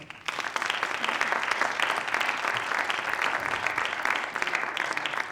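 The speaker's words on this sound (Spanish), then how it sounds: "Un aplauso, por favor" An audience at an homage to Santiago Ramón y Cajal at the Museo Cajal applauds as a diploma is presented, producing a steady, dense wash of many hands clapping that lasts about five seconds, with no talking.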